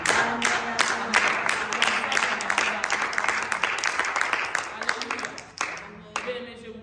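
A church congregation claps in sharp, rapid bursts during a service while a voice keeps speaking over the applause.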